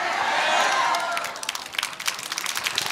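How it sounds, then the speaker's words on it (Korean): An audience at a party rally breaks into close, dense applause mixed with cheering, first a full roar and then thinning into distinct rapid claps. "자, 박수하겠습니다"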